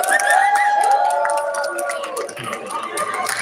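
A crowd of people cheering, whooping and shouting as arrivals come through an entrance at a welcome gathering, loud and close with voices overlapping throughout.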